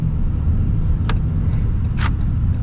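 A Ram 3500 HD Longhorn dually pickup on the road, a loud, steady low engine rumble heard from inside the cab, with a couple of brief higher hisses or clicks and no talk.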